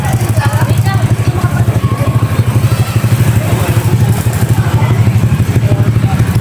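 Honda Click 125 scooter engine during a throttle test, a loud, close, rapidly pulsing engine sound that holds steady throughout.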